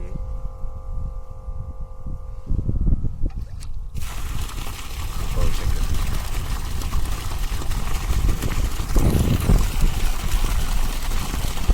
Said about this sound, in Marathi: मोटरचा आवाज पण तुम्ही ऐकू शकता मोटर चालू